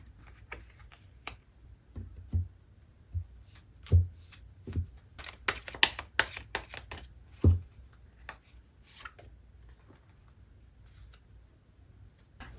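Tarot cards shuffled and drawn by hand, a dense run of crisp riffling and flicking slaps with a few sharper taps, close and fairly loud, with no voice over them.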